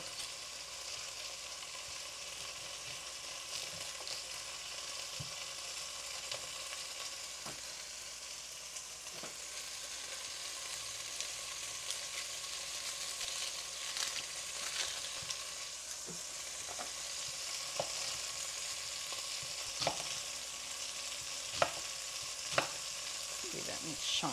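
Onion fries in a pan on the stove, a soft continuous sizzle with occasional clicks and scrapes of stirring that grow sharper in the last few seconds, heard quietly and alone.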